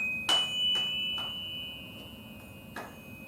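A handbell struck with a mallet rings out in a few quiet, separate strikes, each soft attack followed by a clear, sustained tone that lingers and slowly fades in a calm room.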